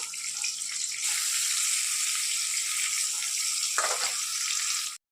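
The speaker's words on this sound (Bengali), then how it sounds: "এখানে দেখো বেগুন ভাজা বসিয়েছি আর ওর জন্য দুটো শিম ভাজছি।" Brinjal slices and flat beans frying in a pan, a loud, continuous hissing sizzle up close that cuts off abruptly at the end.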